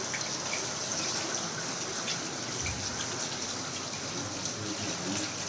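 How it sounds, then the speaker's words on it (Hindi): Water gushing down the stairs from the roof during heavy rain, a steady broadband rush with scattered splashes, close and continuous, with no voices over it. "ये ऊपर से हमारी सीढ़ियों से पानी आ रहा है"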